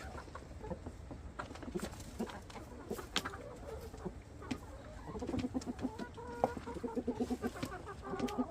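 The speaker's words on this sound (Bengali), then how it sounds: "এটা হচ্ছে মুরগা আর মুরগিগুলো খুবই ফ্রেন্ডলি" Chickens and a rooster cluck softly in the background in London, with scattered short calls growing busier toward the end amid faint rustling.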